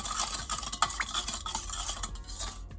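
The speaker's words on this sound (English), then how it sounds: "I'm also going to add 125 milliliters or 1/2 cup of pineapple juice. We're just going to mix that together." Pineapple juice being mixed into a sauce mixture for sweet and sour chicken, a brisk close stirring with repeated clinks and scrapes of a utensil against a bowl.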